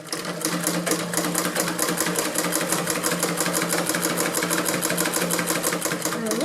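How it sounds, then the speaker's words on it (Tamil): A sewing machine stitches steadily at a slow, even pace, its regular needle thumps forming a continuous rhythmic chatter close by, with no talking. "நீங்கள் மெதுவாக தையல் போட்டு பாருங்கள்"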